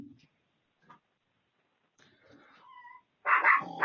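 Dogs make noise in the background of an online meeting: a few faint whimpers over near-silence, then a short, louder burst of yelping barks at the end.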